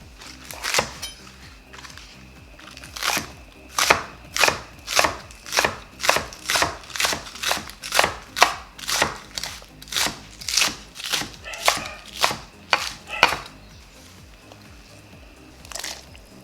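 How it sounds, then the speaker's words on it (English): A knife chops two washed scallions on a cutting board with steady, crisp strokes, around two dozen close-up taps in a regular rhythm that stop near the end. "2 scallions, washed and chopped."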